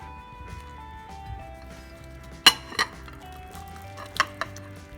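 Boiled chickpeas being moved into a bowl in a home kitchen, with a few sharp metallic clinks and scrapes of a spoon against pots and dishes over a quiet background hum.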